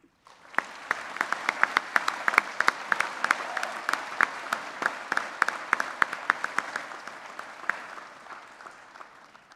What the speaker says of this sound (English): Let's give one more round of applause for all these graduates.